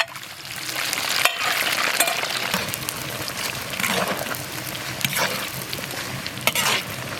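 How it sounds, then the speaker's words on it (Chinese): Pig liver deep-frying in hot oil in a wok, a loud continuous sizzle with bubbling crackle and occasional stirring scrapes throughout, no talking. "再炸猪肝。"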